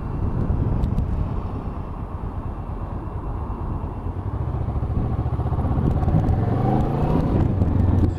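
BMW S1000XR motorcycle ridden on the road, its engine a steady rumble that swells louder toward the end under wind buffeting on the microphone.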